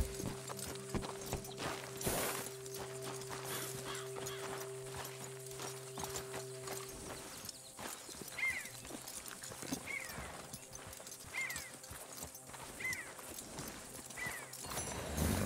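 Horse hooves clip-clop at a walking pace in Red Dead Redemption 2, a quiet run of regular steps that grows clearer in the second half, with faint game ambience around them.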